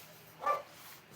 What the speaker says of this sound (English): He's barking his head off.